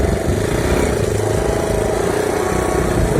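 An MT Kozachok walk-behind tractor engine runs downhill on a forest track in winter, a loud, steady, close mid-pitched drone with a slight throttle lift and no pauses.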